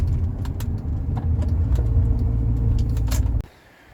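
A Rover 45 Impression S3 engine with a faulty coil pack idles roughly at low revs, a loud, close, uneven rumble that cuts off abruptly near the end.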